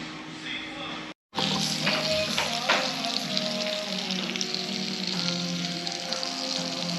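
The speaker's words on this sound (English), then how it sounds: "My food just arrived, and as you can see, it's still sizzling hot and it looks amazing." Close, steady sizzling of hot food served on a restaurant table, a continuous crackling hiss after a brief cut, with some voices faintly in the background.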